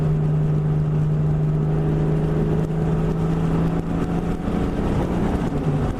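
A cammed 2000 Ford Mustang GT V8 idles with a loping rumble while light throttle blips swell the engine note, heard from inside the car without any talk.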